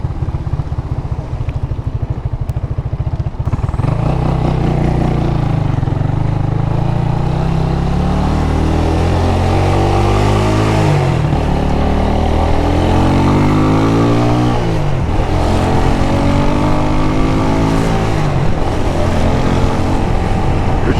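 Motorcycle engine running while riding along a road, shifting gears and cruising in fourth, a loud, close, steady drone whose pitch rises and falls with each change in speed and gear.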